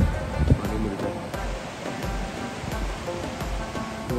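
Water flows steadily at a mountain water source in Haramosh Valley, Pakistan, a continuous close rushing with faint irregular splashes throughout.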